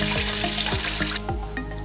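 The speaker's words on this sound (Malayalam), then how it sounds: "വെള്ളം നമുക്ക് ഇതിലേക്ക് ഒഴിച്ചു കൊടുക്കാം" Water is poured from a glass into a pot of chicken biryani, a steady close splashing stream with gurgling that thins and trickles out near the end.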